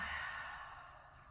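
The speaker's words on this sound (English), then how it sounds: "Inhale. And exhale." A long, breathy exhale released slowly during a shoulder-focused yoga session, starting fairly strong and fading gradually over about a second and a half, heard alone with no talking.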